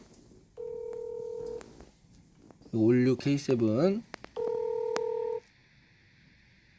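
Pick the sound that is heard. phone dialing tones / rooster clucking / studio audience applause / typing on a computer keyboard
phone dialing tones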